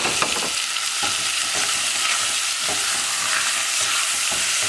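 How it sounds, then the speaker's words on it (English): Lean ground beef browning in a couple tablespoons of extra virgin olive oil in a pan, a loud, continuous close-up sizzle with faint periodic stirring knocks. "I'm going to put my ground beef in there. I just want it to brown a little bit."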